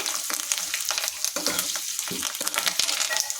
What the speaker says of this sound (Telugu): ఇందులో కొంచెం వెల్లుల్లిపాయలు ఎండుమిరపాయలు కరివేపాకు ఇవ్వండి ఇలా కొంచెం వేగాలి